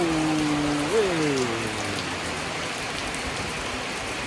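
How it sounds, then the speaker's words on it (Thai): Steady rain falls in Thailand during a roadside stop on a motorbike trip, a dense, even hiss that fills the whole clip, with a brief descending tonal whine near the start. "ฝนตกครับ"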